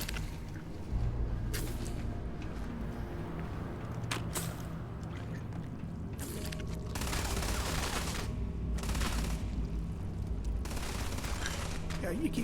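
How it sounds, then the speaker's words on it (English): Gunfire in the video game Starfield, with repeated bursts of shots crackling in several clusters over a steady low background hum of game ambience, fairly faint overall. "Yeah, you keep shooting there."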